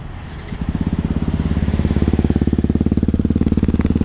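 A Yamaha WR155R motorcycle engine starts up and settles into a steady idle, its rapid, even pulsing thump heard loud and close for about three and a half seconds, with no talking.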